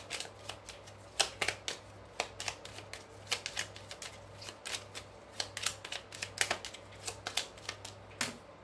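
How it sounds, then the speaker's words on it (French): Oracle cards are shuffled close up in quick irregular bursts of crisp slaps and riffles over a faint steady hum, with no talking. "alors, on va mélanger un petit peu"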